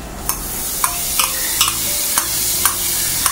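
Sliced onions sautéing in a pan as crushed ginger and garlic are stirred in, a steady loud sizzle broken by regular spatula scrapes and clicks.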